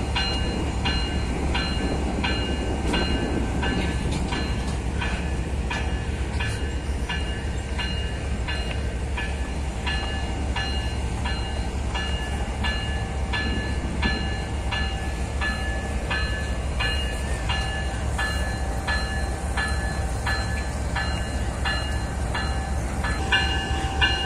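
A freight train with new ES44ACi locomotives rumbles steadily nearby in a rail yard at Sahy, with continuous low mechanical noise and faint metallic ringing bell tones over a constant roar, no voices.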